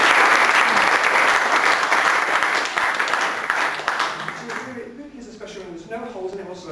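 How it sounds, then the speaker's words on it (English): An audience at a cabaret competition applauds a magician's ring act with loud, sustained clapping that tapers off over several seconds, while a voice begins talking near the end. "Give Andy a big round of applause, these 6 seconds."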